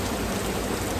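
Steady heavy rain drumming on a metal shelter roof in a public park, a dense continuous hiss and patter with no voices.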